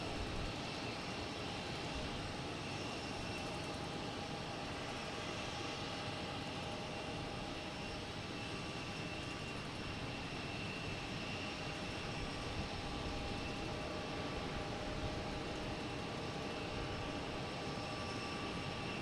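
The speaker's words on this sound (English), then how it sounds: "Next to arrive is Delta Flight 5610 coming in from Nashville in E175." A Delta Embraer E175 jet arriving at Logan Airport from Nashville: a steady, distant, broadband engine roar that holds at an even level the whole time, with no voices.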